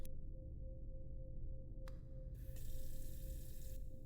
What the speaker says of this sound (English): Thank goodness this refreshing water is right here for my convenience.